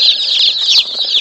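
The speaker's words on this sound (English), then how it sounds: "and there's 50 chickens in here." A crowd of day-old chicks peeps shrilly and continuously inside a mail shipping box, many overlapping high cheeps close by.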